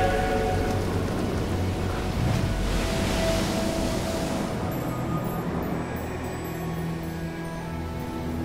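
A dramatized storm scene brings dense, steady rain with a deep thunder rumble for several seconds, loud and enveloping, then easing slightly toward the end, with no voices.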